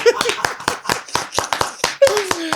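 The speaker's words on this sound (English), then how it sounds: "Round of applause." A wrestling audience applauds right after a new WWE Universal Undisputed Champion is crowned, with a ragged run of fairly close, loud claps mixed with voices and a brief tonal shout.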